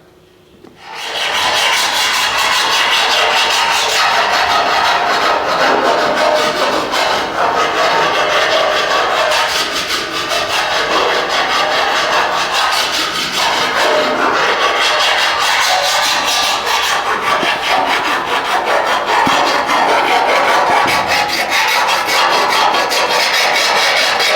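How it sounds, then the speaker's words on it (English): A hand file rasps along the edge of a Holden Torana GTR XU-1 LJ car guard to put a bevel on it, a loud, continuous scraping that runs steadily for the whole stretch without talk. "you can see me filing away there. I'm just putting that nice little bevel along that edge there"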